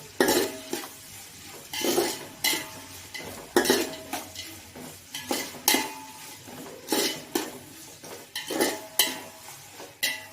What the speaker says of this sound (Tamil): சும்மா கொஞ்சமாக உப்பு போட்டால் வெங்காயம் சீக்கிரம் வதங்கிடும்